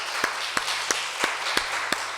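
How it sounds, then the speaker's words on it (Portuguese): A church congregation claps in a steady rhythm, about six sharp claps spaced roughly a third of a second apart, over a soft background hum, with no talking. "Então dá uma salva de palmas para ele."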